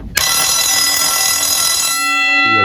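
A loud electric bell, set to ring continuously by a timer switch, rings steadily and unbroken for about two seconds, then cuts off abruptly, leaving a brief ringing tail.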